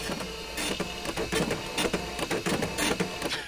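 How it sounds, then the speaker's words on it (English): An old-school dot matrix printer prints inside a video game: a dense, steady run of rapid mechanical rasping bursts, loud and close, with no talking. "Oh man, that is some old school printer sounds right there."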